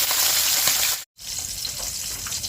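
Sliced pechay sautéing in a pan gives a loud, steady frying hiss that cuts out for a brief moment, then resumes with small crackles.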